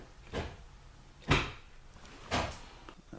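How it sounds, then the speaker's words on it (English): A Lincoln LS with shaved door handles has its driver's door released by a button, giving three separate thuds and clunks a second apart, the middle one loudest, close by with no talk. "I can push the red button and pop the driver's door open."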